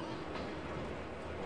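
Train running, a faint, steady rumble and rattle of rolling carriages with no distinct clicks, continuous throughout and heard alone.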